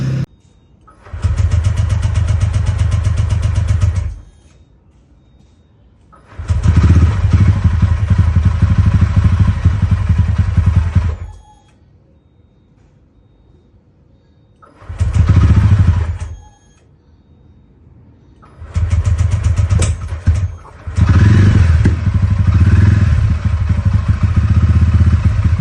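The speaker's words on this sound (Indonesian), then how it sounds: "jadi di motor gue ini bunyinya nih kalau di starter kayak gini nih" A TVS Ronin 225 motorcycle cranks on its electric starter in several separate attempts, each a loud, close burst of several seconds, separated by quiet gaps.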